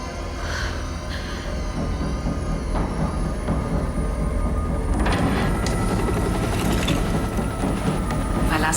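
A helicopter's steady engine and rotor drone fills the cabin, loud and continuous, with a rattling mechanical layer that thickens halfway through.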